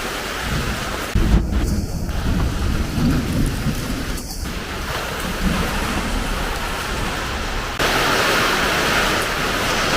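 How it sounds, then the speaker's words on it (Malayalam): Steady rain pours down, a dense hiss of drops that swells louder partway through and keeps going without a break. "മഴ പെയ്യുന്നുണ്ട്."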